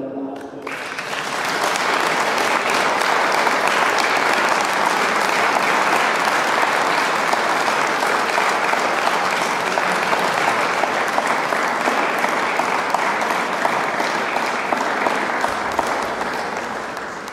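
An audience at an evening holiday-greetings gathering breaks into sustained applause for their president, a broad, steady wash of clapping that swells quickly and holds loud for over fifteen seconds.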